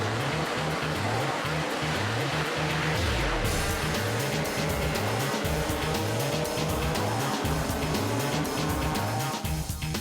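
Racing scooters roar around a track during a race, engines buzzing in rising and falling whines as machines pass in a continuous, loud stream of overlapping motors.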